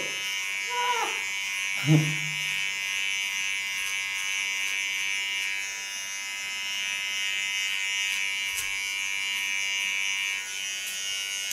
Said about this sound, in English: I think maybe this is also the first time she feels the clipper.